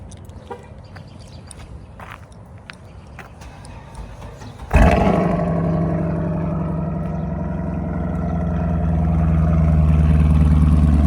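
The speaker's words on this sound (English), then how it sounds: "Get y'all a nice little cold start in, man" A car engine cold-starts after some quiet shuffling, catching with a sudden loud burst and then settling into a deep, steady, rumbling idle close by.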